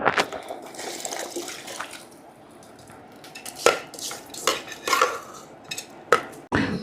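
Basmati rice is tipped into a pot of boiling water for chicken biryani, with soft bubbling under a scatter of close, sharp clinks and scrapes against the pot, and no voices.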